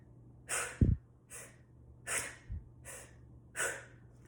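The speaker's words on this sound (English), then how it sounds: "I want you to take short inhales and short, forceful exhales." Breathing exercise of short inhales and forceful exhales: four or five sharp, breathy puffs at a steady rhythm of about one per second, close and alone, with a couple of soft low thumps.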